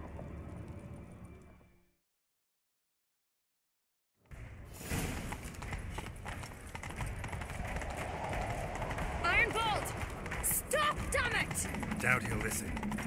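Horse galloping in The Witcher III: Wild Hunt: after a brief silence, dense rhythmic hoofbeats pound steadily and loudly under game music and voices, with occasional sharp accents.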